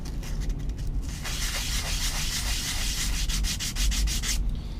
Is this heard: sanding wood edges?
yes